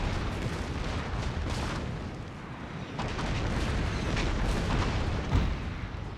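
An artillery barrage in Shogun 2 Fall of the Samurai, with shells exploding in a continuous rumbling series of booms and rolling blasts, one sharper impact near the end.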